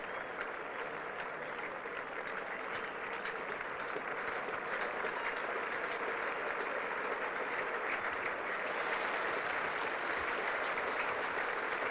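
A large crowd at the Edgbaston cricket test between England and the West Indies in 1984 applauds steadily, a dense, even clapping that lasts throughout and is heard from a distance.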